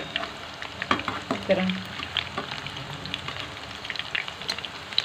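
Chicken seekh kebabs fry in a pan, a steady close sizzle with scattered pops and crackles as they are turned, while a person talks briefly over the frying.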